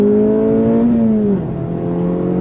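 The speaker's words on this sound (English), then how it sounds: "It's just crazy how fast this car accelerates." Acura Integra Type S pulling hard on throttle in second gear from a roll, a loud steady engine drone rising then dipping slightly as it shifts load, close and continuous with no talk.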